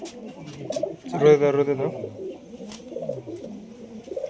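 Pigeons coo in a burst of rolling, throaty calls up close, a high-flying fancy pair of male and female, with a person speaking briefly before and soft talk and chatter continuing around the cooing.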